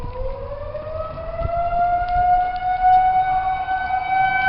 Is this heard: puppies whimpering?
no